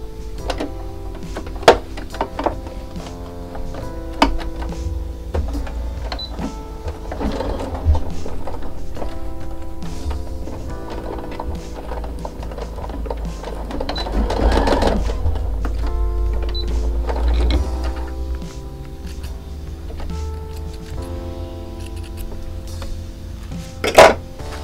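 A sewing machine stitches a small leather baby boot of the caipira bootie style, running in steady mechanical bursts with a low motor hum and clicking needle action, close and fairly loud throughout with no voices.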